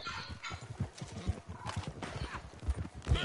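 A horse in the Red Dead Redemption 2 video game gallops with steady clip-clop hoofbeats and lets out whinnies, loud and continuous with game noise.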